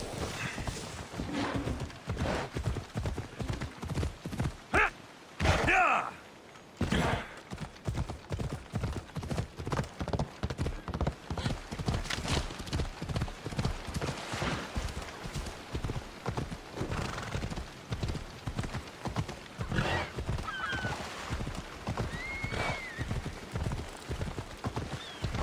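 A horse is urged on and clip-clops at a steady walking pace, hooves beating in a close, regular rhythm that continues throughout, with a whinny near the middle.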